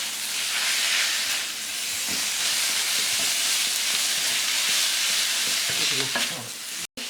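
Minced pork for northern Thai larb being dry-roasted in a pan, giving a loud continuous sizzle and hiss with scraping stir strokes, close and steady throughout.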